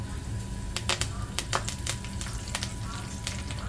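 Mustard seeds and curry leaves crackle in hot oil for ulli theeyal, a steady close sizzle broken by sharp irregular pops and spatters throughout.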